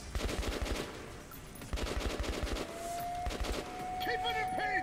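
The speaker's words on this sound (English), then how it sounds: "They're shooting at me." Enemies in Metro: Last Light Redux fire rapid automatic bursts, several loud clustered volleys of gunshots separated by short pauses, with a faint tone and other game sounds toward the end.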